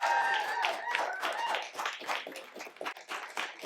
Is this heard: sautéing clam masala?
no